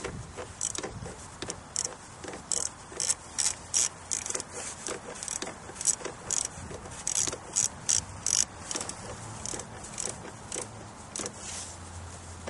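A ratchet tightening the positive terminal clamp on a car battery, cranked in quick bursts of dense clicking strokes with short pauses between, close and clear with no talking.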